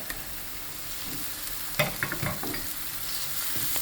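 Tomatoes and onion fry in a pan with a steady low sizzle, broken by a short burst of scraping stir strokes midway; no voices.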